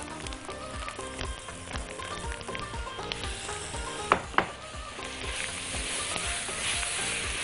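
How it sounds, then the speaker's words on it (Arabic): Rice sautéed in a pan with an onion and garlic mixture sizzles and crackles steadily up close, with a couple of sharp scraping or clinking accents partway through and no talking. "ونكمل تشويح"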